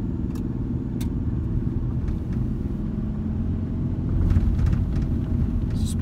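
A 2008 Ford Ranger 2WD with a 5-speed manual transmission climbs a back-road hill in second gear, heard from inside the cab as a steady, low engine and road rumble that swells slightly toward the end.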